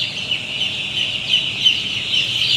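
A flock of six-day-old chickens on a poultry farm clucking and peeping steadily together, a constant chattering chorus with no pauses.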